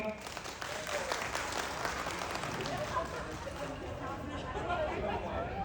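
A crowd claps at an outdoor black buffalo judging contest in Surin, a fairly faint, steady patter of applause mixed with background chatter and a voice over a loudspeaker.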